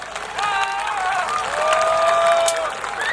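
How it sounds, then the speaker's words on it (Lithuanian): Audience applause and cheering fill the stands at a jousting tournament, steady and fairly loud throughout, with whistles or shouts rising above the clapping and a loudspeaker announcer's voice faintly under the crowd. "Ponios ir ponai, plojimai, gal jie šiek tiek išjudins juos"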